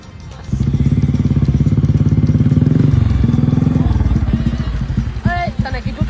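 A Royal Enfield Bullet motorcycle starting and settling into its deep, rapid thumping single-cylinder rhythm, loud and close, with people talking over the engine toward the end.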